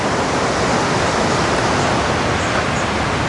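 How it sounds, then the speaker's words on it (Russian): The Ulu-Murdzhu mountain river near Dombay rushes past, a loud, dense, unbroken roar of whitewater filling the sound with no voices. "А река называется Улу-Мурджу."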